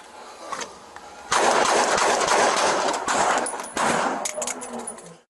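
Gunfire crackles through a police firefight, a burst of rapid shots opening into sustained loud volleys of overlapping reports with a brief lull before more shooting, close and harsh.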